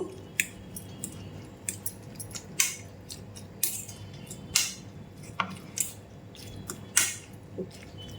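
Egg, chopped onion and salt are worked by hand into a chicken filling for Mughlai paratha, producing wet, rhythmic squishing and soft slaps about once a second, close and fairly quiet.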